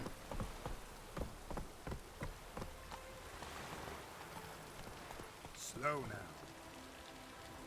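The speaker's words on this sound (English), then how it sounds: "Witches have conjured rain." In The Witcher 3, rain conjured by witches gives a faint, steady patter beneath the clip-clop of hooves, and a brief voice speaks near the start.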